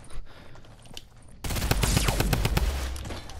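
A drum gun in the video game Fortnite fires in a loud, rapid continuous burst lasting about two seconds, after a quieter stretch of faint game sounds.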